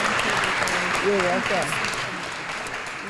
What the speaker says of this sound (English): Let's give Betsy a big round of applause.